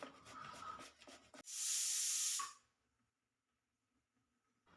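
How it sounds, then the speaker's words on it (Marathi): Fresh bottle gourd is grated by hand for thalipith, with rhythmic close scraping strokes followed by one loud sustained rasp, then near silence. "दुधी भोपळा किसून झालेला आहे"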